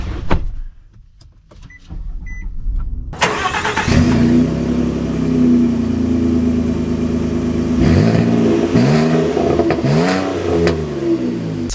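A 2024 pickup truck engine, Toyota Tacoma or Nissan Frontier, fires up after a quiet moment, settles into a steady drone and then revs up in several rising pulls near the end. The engine is loud and close, with no talk.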